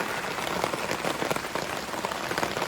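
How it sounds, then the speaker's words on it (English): Heavy rain pours steadily on a campsite at Caddo Lake State Park, a dense and loud patter of drops hitting nearby surfaces such as a tarp, with no pauses. "Pouring down rain at Caddo Lake State Park."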